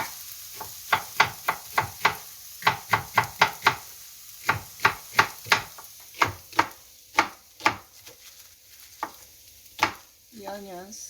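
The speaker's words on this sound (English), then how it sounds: "The onions, slicing." A knife slices onions on a cutting board in a Korean kitchen making soft tofu stew, giving sharp, close, uneven chops in quick bursts with brief pauses, followed by a faint sizzle at the end.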